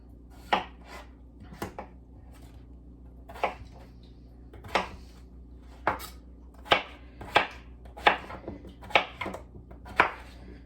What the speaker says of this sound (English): So I'm gonna cut up these 4 potatoes